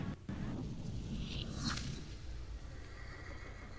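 A horse whinnies once in a drawn-out, rising call over a steady low background rumble in the game The Thaumaturge, the noise continuing after the neigh fades.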